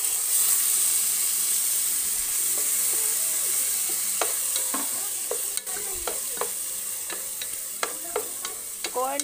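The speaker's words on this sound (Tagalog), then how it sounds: "Corn beef yung halo natin sa spaghetti" Corned beef is stirred into spaghetti in a sizzling frying pan, with a spoon clinking and scraping against the pan in irregular strokes over a steady hiss of frying.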